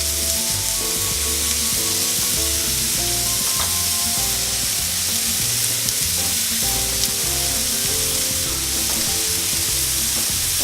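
Burger patties fry on a hot grill with a steady, close sizzle, crackling and popping continuously throughout without any talking.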